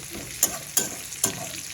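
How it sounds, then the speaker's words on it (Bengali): Onions frying in a pan for a meat dish, a continuous close sizzle punctuated by three or four sharp scraping taps of a spoon stirring against the pan. "এই যে আগে পেঁয়াজটা ভেজে নিব"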